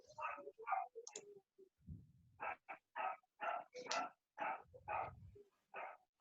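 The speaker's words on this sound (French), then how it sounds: "j'ai le chien de ma voisine qui est un peu derrière moi" A neighbour's dog barks behind the listener in a series of sharp, evenly spaced barks and yaps, fairly close and clear, with occasional clicks mixed in.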